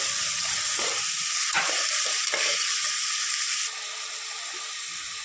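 Tomato pieces and two green chillies stirred into a hot pan for dhaba-style moong dal, giving a steady close sizzle broken by several scraping stirs, easing slightly toward the end.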